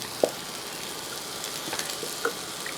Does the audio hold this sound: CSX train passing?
no